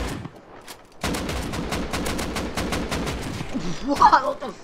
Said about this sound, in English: Few shots with a pistol and a headshot.